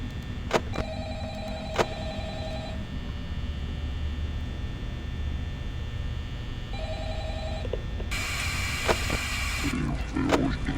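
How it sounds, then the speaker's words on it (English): A telephone rings in the nightmare phone call of the Five Nights at Freddy's video game, with repeated bursts of ringing tones over a constant low hum and hiss, plus a few sharp clicks. "the nightmare phone call now"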